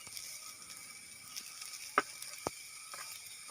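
Sliced onion sizzles quietly in a pan, a soft steady frying hiss broken by a couple of sharp clicks from stirring, close by with no talking.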